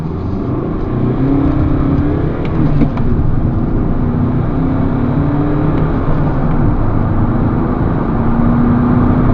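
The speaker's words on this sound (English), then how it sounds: "the first thing we're going to start off with is a 0 to 60 test" A 2008 Mercedes-Benz E-Class 2.2 engine pulls steadily under hard acceleration from 0 to 60, a loud continuous drone rising in pitch through the gears, heard from inside.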